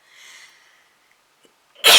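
One person sneezes suddenly and loudly after a few seconds of faint hissy quiet, a single sharp burst close to the microphone.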